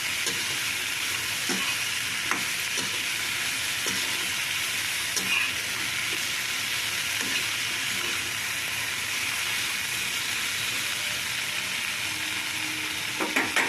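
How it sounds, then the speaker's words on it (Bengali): Pumpkin curry is stirred in a frying pan, a continuous hissing sizzle broken by repeated scraping strokes of a spoon against the pan, close and steady with no talk. "এই যে নাড়াচাড়া করে ভালো করে মিক্স করে নেব।"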